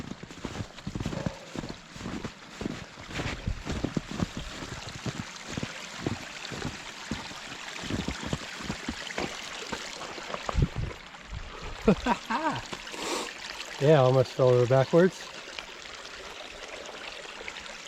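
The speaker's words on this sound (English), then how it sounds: "a nice little creek here cutting through" A small creek runs across the Walnut Run Trail near Poplar Grove, Pennsylvania, giving a steady, rushing wash of flowing water close by. Footsteps crunch over it and a person speaks briefly.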